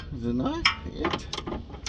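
A socket ratchet works on a rear muffler bolt of a 2011 Dodge Charger Pursuit PPV, giving brief metallic clicks and clunks mixed in with close talking.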